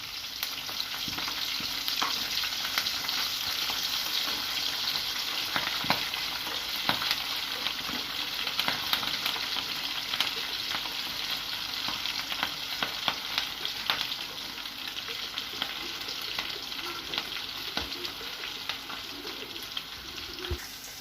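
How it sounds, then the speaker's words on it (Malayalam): Green chillies fry in a pan of hot oil, giving a steady close sizzle scattered with small pops and crackles, with no talking. "രണ്ട് പച്ചമുളക് കൂടി അതിന് മേളിലേക്ക് ഒന്ന് ഇട്ടിട്ടൊന്ന് ഫ്രൈ ചെയ്തെടുക്കാം"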